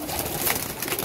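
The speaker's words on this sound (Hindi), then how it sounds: "ये कबूतर थे" A pair of Rampuri pigeons gives soft, short cooing against a hissy, noisy background, faint and heard only briefly.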